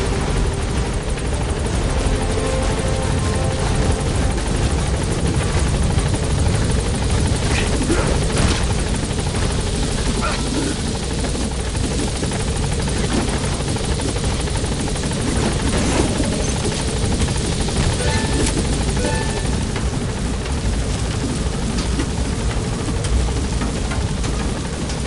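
Helicopter from Metal Gear Solid 5: The Phantom Pain, its rotor and engine drone steady and loud for the full stretch, a dense, constant roar with no speech over it.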